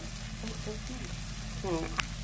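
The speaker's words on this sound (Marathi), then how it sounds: "चांगलं तेल सुटेपर्यंत हे परतवून घ्यायचं आहे।" Baby shark keema with garam masala sizzles and crackles steadily as it is stirred in hot oil, with occasional scraping and a soft voice in the background.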